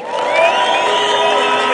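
A large crowd cheers loudly and continuously for a governor, with shouts and whoops blending into a dense roar at close range.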